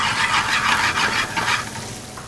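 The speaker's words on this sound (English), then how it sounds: "Now we're gonna add our garlic." Garlic dropped into a hot pan with tomato while cooking risotto with guanciale and butternut squash gives a continuous, fairly loud sizzle and frying hiss with a faint stirring texture.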